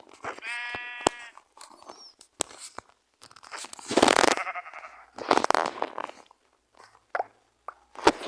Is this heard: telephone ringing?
no